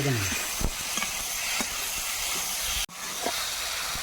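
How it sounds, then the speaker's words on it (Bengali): Bottle gourd and potato sautéed with a splash of water, giving a continuous close hiss and sizzle of steam with a few faint stirring scrapes and a brief break near the end. "হালকা একটু জল দিয়ে কষিয়ে নেবে লাউ আলু সুন্দর কষানো হয়ে গিয়েছে"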